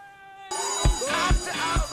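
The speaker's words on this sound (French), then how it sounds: "Tout commence après la sonnerie dans une salle de cours" A bright electronic school bell tone rings in repeated pulses in a classroom, starting abruptly and sounding fairly close.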